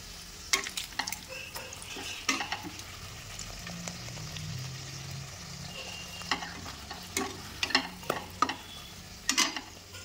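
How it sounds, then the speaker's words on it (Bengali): Luchi frying in hot oil, a soft steady sizzle with sharp intermittent stirring and scraping taps of a utensil against the pan, close and fairly quiet. "দেখো হচ্ছে লুচি ভাজা"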